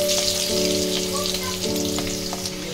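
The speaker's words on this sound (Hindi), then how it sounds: "मु प्रथमे आलू को भाजी दउची" Potato pieces frying in hot mustard oil in a kadai, a loud, continuous close sizzle with a steady hum running underneath and a few faint pops.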